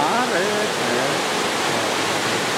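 Chilyeon Falls in the Chilyeon valley of Deogyusan mountain pours as a dense, steady roar of falling water, with a voice talking faintly over it at the start.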